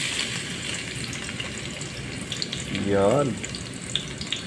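Garlic drops into hot oil in a pan for pancit, giving a steady, broad sizzle throughout, with a short spoken word near the middle.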